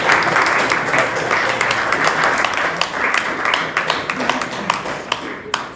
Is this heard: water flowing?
no